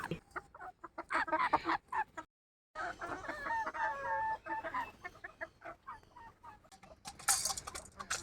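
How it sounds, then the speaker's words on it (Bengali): Chickens cluck and call repeatedly close by in a rural yard on a hot day, a busy run of clucks and squawks with a brief silent gap, ending in a sharper burst of calls. "মুরগিগুলো খুব ডাকাডাকি করছে"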